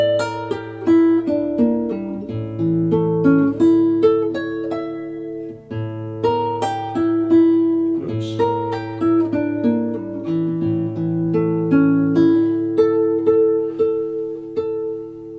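Solo classical guitar plays quick, flowing runs of plucked notes over low bass notes from the ending of Capricho Arabe, clear and close with a steady rhythm.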